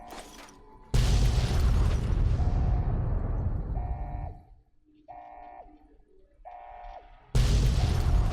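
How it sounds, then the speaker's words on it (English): Explosions in Fallout: New Vegas: a heavy blast bursts in and rumbles away over several seconds while short mechanical beeps pulse, then a second loud blast cuts in near the end. "That's where all the explosions are happening."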